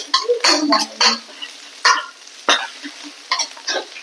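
Metal utensils scrape and clatter in a wok in short bursts, with light sizzling of squid being stir-fried underneath.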